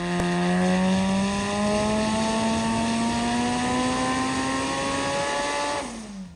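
A K24-swapped Ferrari on a dyno revs hard, its loud engine note climbing steadily in pitch for about six seconds before cutting off abruptly, with no one talking.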